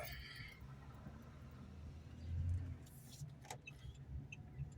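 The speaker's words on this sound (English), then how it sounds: "Car behind me in a hurry." A car approaches from behind on a hilltop road in McKeesport, Pennsylvania, its engine noise swelling to a low rumble midway and passing close before fading. Steady road noise continues throughout.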